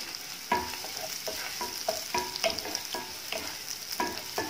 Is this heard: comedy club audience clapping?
no